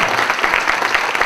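Dinner audience applauding elected officials at a unity dinner, a brief burst of dense, even clapping from a crowd.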